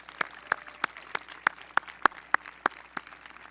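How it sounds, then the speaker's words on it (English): A single pair of hands claps slowly and evenly, about a dozen distinct claps in a steady rhythm, close by, during a graduation ceremony. "Let's give them a round of applause again."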